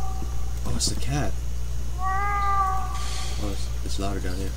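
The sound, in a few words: cat meowing in The Last Door video game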